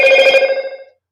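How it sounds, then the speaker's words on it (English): Loud ringing from a Bluetooth speaker, a bright electronic bell-like chime with pulsing tones that rings out clearly and then fades to silence within a second. "ringing you just heard. That was my Bluetooth speaker."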